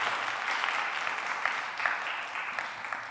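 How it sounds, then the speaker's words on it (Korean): A church congregation at a Sunday worship service claps together to welcome a visiting member, producing a steady, moderately distant round of applause with no speech over it. "우리 박수로 환영합니다."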